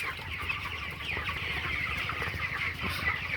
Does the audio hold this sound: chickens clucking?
yes